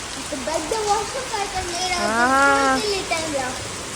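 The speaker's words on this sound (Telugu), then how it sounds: "మరి బస్సు వస్తుందో రాదో కానీ వర్షం మాత్రం తెగబడుతుంది" Steady heavy rain hiss fills the background while a voice talks over it in short bursts.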